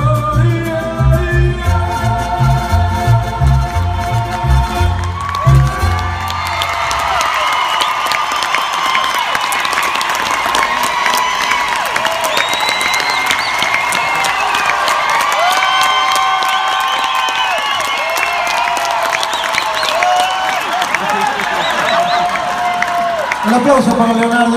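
Music comes to an end and an audience bursts into loud, sustained applause and cheering for a singer, with whoops and shouts mixed into the clapping for about twenty seconds.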